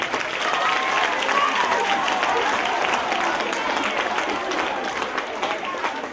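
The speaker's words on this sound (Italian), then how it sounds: "Un grosso applauso per loro." Theatre audience applauding the performers after a 2019 stage production of the comedy Cose 'e pazze, a dense, sustained wash of clapping from a full house that holds steady for the whole stretch.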